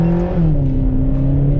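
A Ferrari engine revs hard under aggressive driving, a loud close droning roar whose pitch steps down as gears change and then holds steady.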